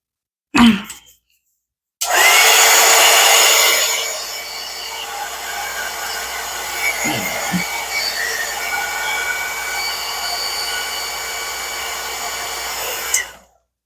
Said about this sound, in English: Now I think I'm going to take my little dryer here and hit it real quick.